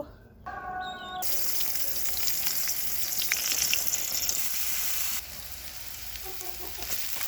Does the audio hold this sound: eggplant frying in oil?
yes